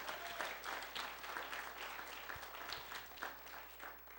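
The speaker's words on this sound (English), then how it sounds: "You can clap." Audience at an evening church revival service claps steadily, a dense continuous patter of many hands sustained throughout without a break.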